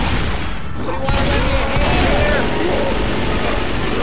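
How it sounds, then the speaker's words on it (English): A big machine gun in Left 4 Dead 2 fires in a dense, continuous burst of loud, close gunfire that runs the whole time, backed by chaotic game noise. "I can't shoot him with the big machine gun."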